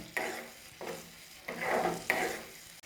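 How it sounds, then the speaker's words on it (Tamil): Tomatoes sauté in oil for a spicy egg thokku while a spoon stirs them in four short scraping bursts over a soft, close sizzle, with no talking. "தக்காளி நல்லா எண்ணெயில் சேர்த்து நல்லா அப்படியே வதக்கி விட்றேன்."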